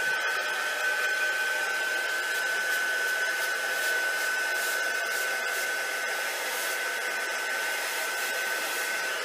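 A hair dryer blows steadily to dry paint on a folded frame art piece, a constant close whirring hiss with a high whine that holds for the whole stretch.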